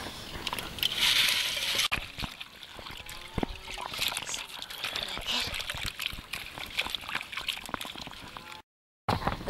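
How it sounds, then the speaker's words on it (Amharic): Collard greens being squeezed in a pot of water make continuous sloshing, splashing and dribbling, close and fairly loud, with a brief dropout near the end. "አሁን እንግዲህ ያው የታጠበውን ጎመን ውሃ ውስጥ እንጨምርና እየጨመቅሽ ነው"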